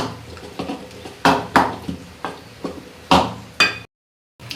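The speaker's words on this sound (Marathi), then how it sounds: "अशा पद्धतीने आपल्याला ही भाजी स्मॅश करून घ्यायची आहे" Repeated soft thuds and scrapes of a utensil mashing cooked spinach in a metal pot, close and fairly loud, at an uneven rhythm.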